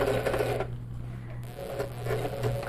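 A sewing machine stitches a quilted piece at an unhurried pace, giving a soft, steady mechanical hum with a brief easing in the middle, quiet and alone.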